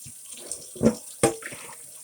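Water runs and splashes while laundry is rinsed, with two short surges of pouring over a low background hiss, brief and close.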